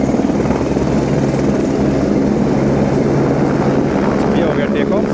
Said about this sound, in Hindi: ये हो गया टेक ऑफ और ये गए भाई हेलीकॉप्टर जो है